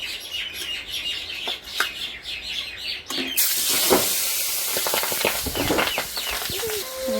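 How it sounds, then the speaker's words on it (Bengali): Singi fish drop into hot oil and start frying, a quieter crackle giving way to a sudden loud burst of hissing, sputtering spatter with sharp pops that continues strongly to the end. "এই মাছগুলোতে খুব ফোটে"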